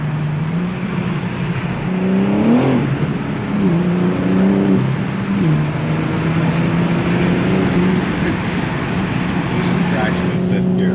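A BMW G82 M4 Competition's engine pulls hard, its rising drone stepping up through quick gear changes, heard from inside the car on a damp road.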